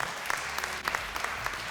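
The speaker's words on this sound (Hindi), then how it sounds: "तो इन तीनों के लिए बहुत सारी तालियां" Audience applause on a Ramadan quiz show set, a steady wash of clapping that fills the short moment at moderate level, with faint voices in the background.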